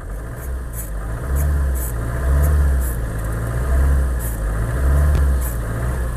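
A Maruti Suzuki Ciaz car engine runs close by with a steady low drone that swells and eases in several slow surges, like mild revving from idle.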